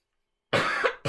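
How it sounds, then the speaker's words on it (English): A single sharp cough after a moment of silence, followed by the start of another cough, close and loud. "feel like I have to cough."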